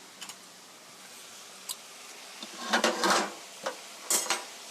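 Sliced bell peppers are stir-fried in a pan, with sparse utensil clinks and scraping strikes against the metal, light clatter growing busier toward the end over a faint sizzle.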